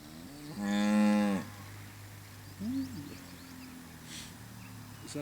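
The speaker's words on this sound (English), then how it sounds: "Can you hear that cow? He's not too happy." A cow in a field moos with one long, loud, nearby bellow, followed a little later by a short, fainter low call, set against quiet outdoor ambience.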